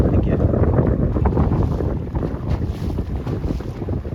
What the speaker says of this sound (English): The wind is way steady enough to sail absolutely flat